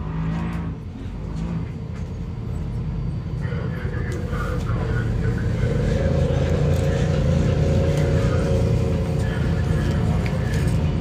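A turbo UTV race vehicle roars past in the High Desert 100 off-road race at Powell, Wyoming, its engine a loud, sustained drone with voices talking over it.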